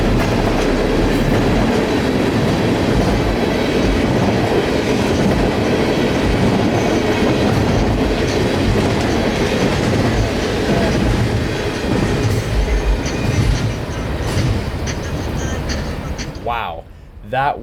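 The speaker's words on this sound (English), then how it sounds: "This resulted in the 5 locomotive lash-up on tonight's train" A train hauled by five locomotives rumbles past close by, a loud steady roar of wheels and engines with clattering rail noise, easing off near the end.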